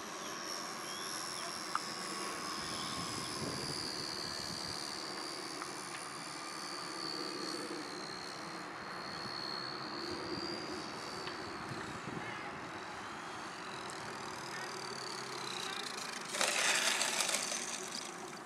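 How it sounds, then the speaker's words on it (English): A radio-controlled model Cessna airplane flies overhead, its small engine a faint, steady droning whine rising and falling with distance, with a brief louder burst near the end over an outdoor background. "We'll bring this in for a landing. That's flying nicely."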